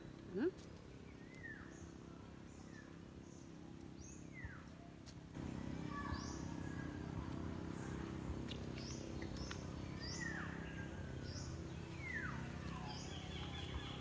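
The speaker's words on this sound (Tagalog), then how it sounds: "Nadungog ninyo guys ang tingog sa mga huni ng ibon." Birds chirp in a green, leafy natural area: scattered short, thin whistled calls, some near and some farther off, rising over a steady low background hum that grows slightly louder partway through.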